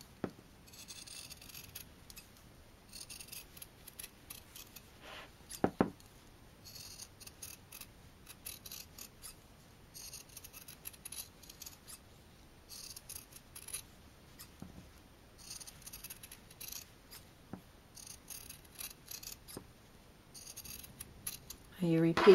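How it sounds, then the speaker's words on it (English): Scissors snip through fabric while cutting around circles for handmade fabric flower embellishments, giving soft, intermittent crisp snips at close range with a few louder clicks and handling noises between cuts. "so now I take my scissors, I'm going to cut around the circle that I created."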